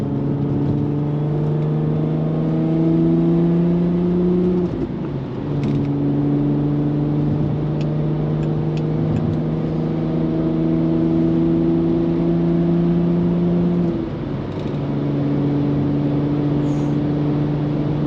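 A VW R32 being driven, its engine giving a loud, steady drone from inside the car. The engine note climbs through the gears with two brief dips between them, and a few faint clicks sound over it.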